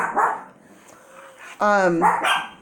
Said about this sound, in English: my little dogs have to answer the call. It's the barking chain